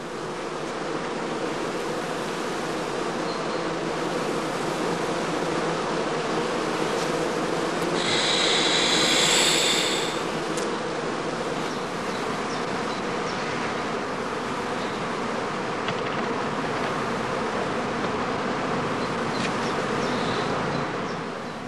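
Dense, steady buzzing of many honeybees close by at the entrance of a straw skep hive, swelling briefly louder midway, with a constant insect hum throughout and no voices.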